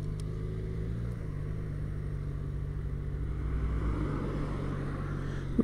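A Yamaha XJ6F motorcycle rides along a road, its engine droning steadily with a low hum and a slight rise in revs toward the end, accompanied by wind rush, no talking.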